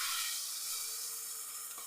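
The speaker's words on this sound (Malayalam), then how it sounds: "ചുവന്നുള്ളി, കറിവേപ്പില, ഒരൽപ്പം മീറ്റ് മസാലയും കൂടെ എണ്ണയിലേക്ക് ഇട്ടിട്ട് താളിച്ചൊഴിച്ച് കൊടുക്കാം" Tempering of shallots, curry leaves and meat masala fried in oil, poured over a beef curry, makes a soft, steady hiss and sizzle for a brief moment, fairly faint and without talk.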